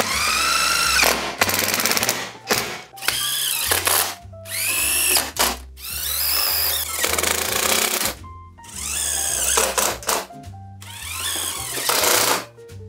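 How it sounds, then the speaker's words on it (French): A power screwdriver drives screws through plasterboard into a Geberit stud and ceiling rail in a bathroom renovation, giving several loud, close, rising whirring bursts separated by short pauses. "j'utilise également la même vis pour visser la plaque de plâtre sur le rail au niveau du plafond"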